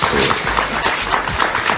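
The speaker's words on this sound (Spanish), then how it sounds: "Un aplauso para Enrique Salas Romer, por supuesto." Studio audience applauds a guest, former Venezuelan presidential candidate Henrique Salas Römer, on a TV talk show; a dense, steady wash of clapping fills the short stretch at full volume.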